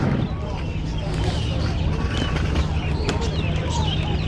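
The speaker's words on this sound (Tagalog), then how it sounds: "Ayan, may mga manok po rito." Chickens cluck intermittently amid a noisy outdoor animal market in Kuwait, with a low hum and faint voices of people talking nearby.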